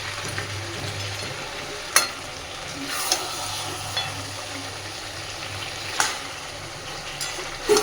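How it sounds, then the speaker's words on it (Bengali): Fried bhetki fish bones are stirred into potato and spices frying in fish oil. A steady, moderate sizzle runs throughout, broken by a few sharp clinks of the spoon against the pan. "এইবার আমি ভেজে রাখা ভেটকি মাছের কাঁটাগুলো এর মধ্যে দিয়ে দিচ্ছি।"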